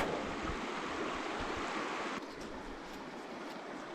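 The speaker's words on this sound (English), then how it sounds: "just in the middle of this fast flowing broken oxygenated stuff" Fast-flowing, broken water of the Howqua River rushing over stones, a steady broadband wash heard up close that drops slightly in level halfway through, with no voices.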